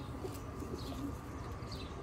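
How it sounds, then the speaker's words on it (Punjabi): A pigeon gives a few soft, low coos close by, faint against a steady murmur of background noise. "ਲੋ ਦੋਸਤੋ ਇਹ ਕਬੂਤਰ ਹੈ"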